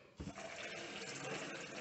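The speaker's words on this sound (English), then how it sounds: "I'm gonna add some water" Water pours into a pot of homemade chicken stock in a kitchen, a sudden splash settling into a continuous, moderately loud gushing stream heard alone.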